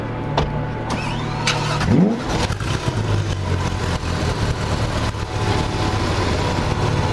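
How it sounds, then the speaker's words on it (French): A Porsche GT3 RS and a Lamborghini Aventador start up close by, with a sharp ignition bark and rising rev that settles into a loud, rumbling idle with further throttle blips, with no speech. "on va peut-être avoir en même temps le start-up de la GT3 RS et de l'Aventador"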